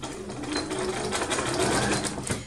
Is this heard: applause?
no